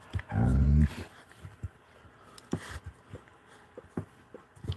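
A young tan puppy with a black tail gives a loud, drawn-out whimpering cry up close, followed by quieter scattered whines, snuffles and small mouth sounds.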